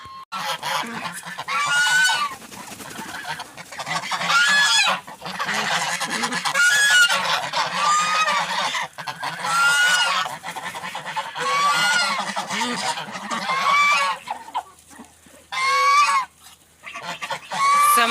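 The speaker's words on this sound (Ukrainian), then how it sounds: "найгаласливіші на моєму господарстві є це ось ці качки і, звичайно, гуси" Loud, persistent honking of farmyard geese close by, with overlapping calls from several birds forming a noisy, continuous chorus.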